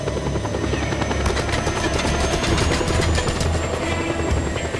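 A helicopter in the video game Just Cause 2 flies with a steady, loud rotor thump and engine whine. The sound is continuous and close throughout, with no talking over it.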